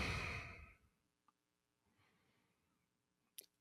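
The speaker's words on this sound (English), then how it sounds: "just take a couple of deep breaths through your nose," A deep breath let out slowly during a relaxation breathing exercise, one strong exhale at the start that fades to near silence, followed by a few small faint sounds.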